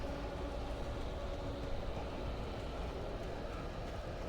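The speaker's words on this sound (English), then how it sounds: "Train! Let me on board." Train rolling past in the horror game Alan Wake, a steady, loud low-frequency rumble and rattle of rail cars that holds evenly throughout with no talking.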